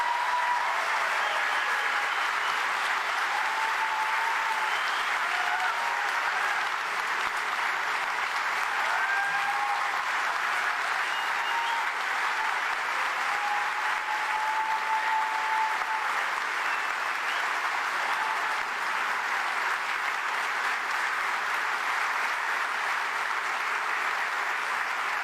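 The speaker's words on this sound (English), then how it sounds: "Big round of applause for Mr. George Takei." A large audience applauds George Takei at the Jefferson Center in Roanoke, Virginia. The clapping is steady and sustained for the whole stretch, with faint whistles and cheers riding above it.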